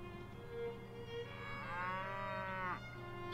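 Cattle mooing in Mount & Blade: Warband, one long, drawn-out low moo that rises and swells, close and fairly loud against a steady background drone.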